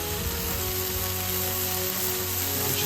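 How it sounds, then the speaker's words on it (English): Streaky bacon sizzles in a frying pan, a quiet, steady crackling hiss with no talk over it. "Now just listen to that sizzle."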